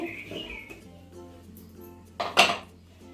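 A spoon scrapes and clinks against a pan while turmeric and salt are mixed into a capsicum dish, soft stirring sounds building to a couple of louder metallic knocks near the end.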